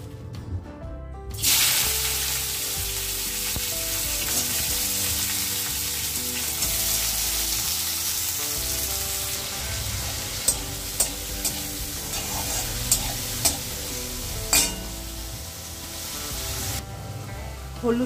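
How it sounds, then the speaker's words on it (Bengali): Sliced bitter gourd and potato frying in a wok, a continuous loud sizzle with repeated scraping and stirring clatter throughout. "উচ্ছে আলু কেটে নিয়েছি, করবো ভাজা।"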